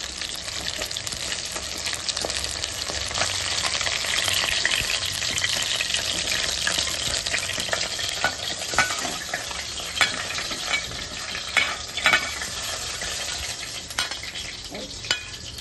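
Parshe fish sizzles loudly and steadily in hot oil, with occasional scraping and clinks from stirring.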